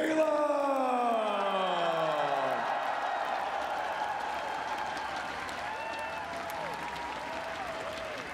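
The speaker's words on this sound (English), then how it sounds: "One more round of applause, y'all" A large esports crowd cheers and applauds the EVO 2017 Smash 4 champion, with loud sustained clapping under drawn-out whoops and yells that fade slightly over several seconds.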